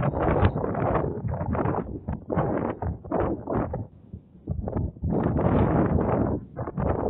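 Gusty wind buffets the microphone outdoors during a stability test flight of an Autel Evo Lite Plus drone, loud rushing bursts that surge and briefly ease around the middle before picking up again.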